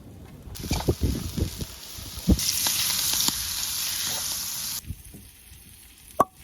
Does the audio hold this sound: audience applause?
no